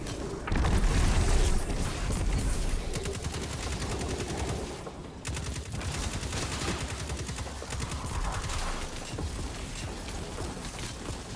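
Dense, sustained gunfire fills a firefight in Destiny 2, with rapid automatic bursts and booming impacts layered into a continuous roar that runs loud and unbroken from start to finish.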